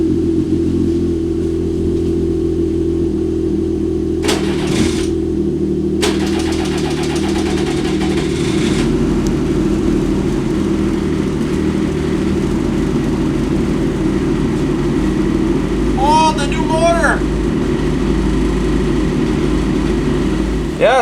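A Ski-Doo E-TEC snowmobile engine runs steadily loud and close at its first startup of the 2020 season, a continuous mid-pitched drone with a brief higher rattle partway through and short squeaks near the end.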